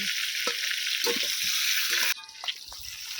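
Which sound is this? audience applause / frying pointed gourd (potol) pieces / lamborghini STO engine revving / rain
frying pointed gourd (potol) pieces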